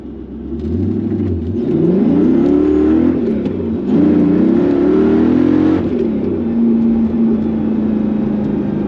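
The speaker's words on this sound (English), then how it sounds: "Can go all the way revved out now." A Mercedes C55 AMG engine, freshly tuned, revs loudly and repeatedly, climbing to a high whine and holding there before settling into a steady rumble; no voices.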